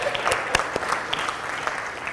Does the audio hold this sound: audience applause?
yes